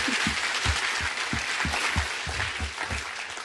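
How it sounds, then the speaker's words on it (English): Lecture audience applauding after thanks from the host, a dense roomful of clapping over a regular low thumping beat, steady and fairly loud for the whole stretch with no speech. "So more applause"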